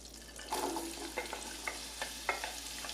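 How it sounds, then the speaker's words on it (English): Thinly sliced onions go into a pan and sizzle softly with frying crackle, while a utensil stirs them in scattered scrapes and taps; nobody speaks. "Love that sizzle."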